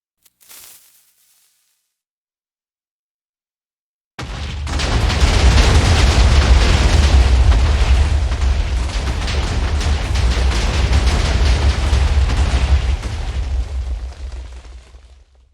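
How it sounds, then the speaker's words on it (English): TNT blocks detonating in Minecraft, a video game: after a brief tick and a few seconds of silence, a loud, deep explosive roar erupts and rumbles on continuously for about ten seconds before cutting off. "a block of TNT that is detonated will also detonate other blocks of TNT within that 7 or 8 block range, and the results can be pretty explosive"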